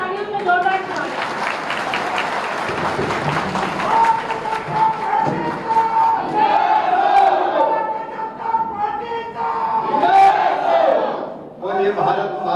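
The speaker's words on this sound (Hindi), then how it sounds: "मामा जी को एक बार तालियों से जोरदार स्वागत।" Crowd at a political rally welcoming a Chief Minister, voices cheering and chanting together with scattered clapping, loud and rowdy, while someone speaks through the noise over a sustained musical tone.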